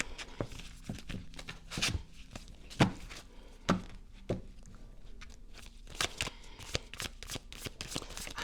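Tarot cards being moved, tapped and shuffled on a surface, a close series of crisp slaps and riffling clicks spaced irregularly throughout, quiet and without talk.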